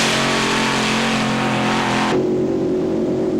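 Keith Black-powered pulling tractor at a 1995 European tractor pulling event in Flevo, Holland roars continuously at full power, a loud dense engine blare that drops slightly in pitch partway through.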